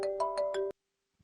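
A mobile phone ringtone plays a short melodic chime of four quick rising notes, close and clear, then cuts off abruptly into silence.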